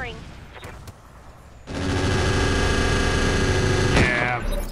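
Autocannon fire in the RogueTech mech game: after a quieter opening, a dense, sustained burst of rapid shots and rumbling blasts holds loud for about two seconds, then tapers off.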